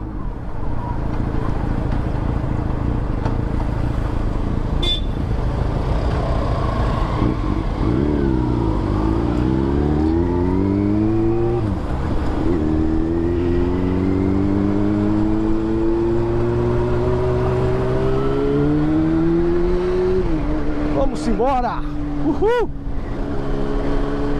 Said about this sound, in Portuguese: a força que tem essa moto